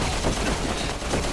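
An enemy fires at the player in the video game Resident Evil 6, a dense burst of rapid gunfire with overlapping shots that keeps a steady, loud intensity throughout.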